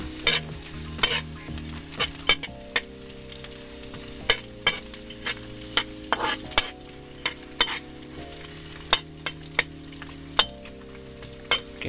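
Garlic and onion sauté in a hot pan for chicken-head adobo, a steady sizzle broken by frequent sharp scrapes and clinks of a utensil stirring against the metal, close and with no talking.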